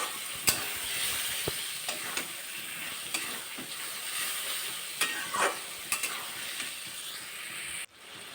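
A masala of ginger, garlic, cumin, coriander and Kashmiri and red chilli powder, mixed with salt, is fried and stirred for a fish curry. A soft constant sizzle is punctuated by sharp spatula scrapes and clicks against the pan.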